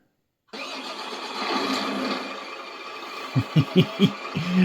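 A small electric motor in a Tamiya Grand Hauler RC truck whirs up and hums, then several quick bursts of throttle rev in a short series at the end.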